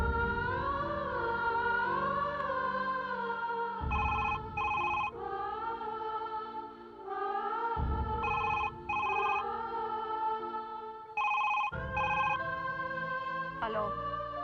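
A telephone rings on an outgoing call, repeated electronic ring bursts in a regular pattern with short pauses, heard over a background music score.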